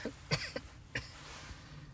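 Two or three short, muffled coughs close to the microphone, followed by a quieter throat sound, with nobody talking.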